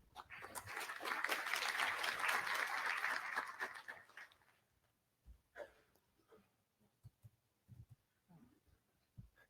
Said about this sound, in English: let's give a nice round of applause to Conrad Volsing